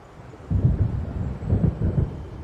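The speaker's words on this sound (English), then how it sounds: "It seems there's a storm coming." Deep thunder from an approaching storm in the video game Alan Wake rumbles in two heavy rolling swells, low and booming, with no voices.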